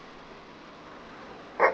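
A dog lets out one short, sharp bark near the end after a stretch of quiet background hiss.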